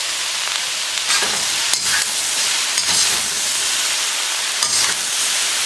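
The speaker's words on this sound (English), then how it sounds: "So when you have the wok on high, it's going to sear the veggies." Quartered bok choy seared in a carbon steel wok over high heat gives a loud, continuous sizzle and hiss, with occasional scraping stirs, no talking.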